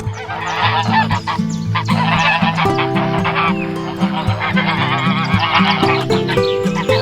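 A crowd of geese honks loudly and continuously, many nasal calls overlapping in a dense, nearby chorus.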